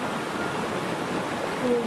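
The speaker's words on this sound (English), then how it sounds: "water passing by this rock" Water flows steadily past a rock in a river, a constant close broadband rushing and gurgling with no breaks.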